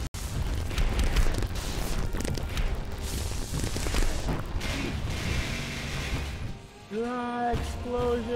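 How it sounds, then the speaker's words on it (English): A loud, rumbling explosion in the crab-fighting video game Fight Crab, a dense roar filling most of the clip, then fading into shorter tonal game sounds near the end. "Ah, explosion."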